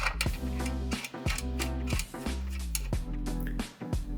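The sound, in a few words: wrench tightening bolts on Exerfly RackFly back plate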